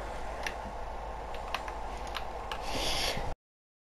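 Rapid keyboard clicks from a computer keyboard during a gaming session, fairly close and steady, with a few sharper key strikes and a denser burst near the end over a constant low background hum.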